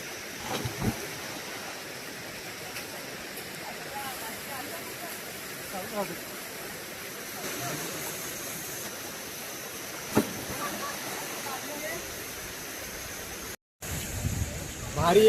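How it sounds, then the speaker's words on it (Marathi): Steady churning water splashes and rushes as people swim in the deep water of Chafe Asondewadi dam in the Konkan, with a few sharper splashes and a brief dropout near the end. "तर आपण आता पोहायला सुरुवात करूया"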